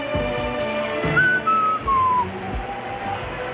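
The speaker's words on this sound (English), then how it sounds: "whistling doesn't sound very well on the radio" A person whistles a sliding, wavering tune over a steady background hum, fairly close and clear.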